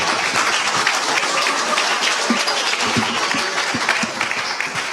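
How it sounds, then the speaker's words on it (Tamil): Audience applause at a Tamil Christmas villu paattu program, loud, dense clapping from a crowd sustained steadily for the whole stretch. "அப்ப தமிழ் மக்கள்லாம் ஒரு கைதட்டு கொடுங்க பார்ப்போம்"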